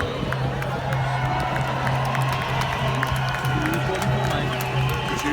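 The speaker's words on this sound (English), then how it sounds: "Big massive round of applause for Martin!" A protest crowd in Birmingham applauds and cheers without a break, a dense wash of clapping and voices with a steady hum underneath and talk mixed in.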